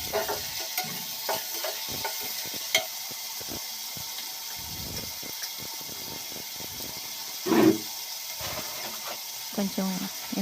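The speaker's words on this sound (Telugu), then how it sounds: "ఇందులో చిన్నపాయలు, 4 పాయలు ఉల్లిపాయలు, 3 పచ్చిమిరపకాయలు అవి బాగా వేగించుకోవాలండి." Small onions and green chillies frying in a pan, a soft continuous sizzle with stirring scrapes and clinks, steady and close, with a louder splash-like burst near the middle.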